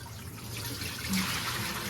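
Water poured out of a cooking pot during Thanksgiving meal prep, a steady splashing rush that runs without a break for about two seconds, fairly close, with no talking.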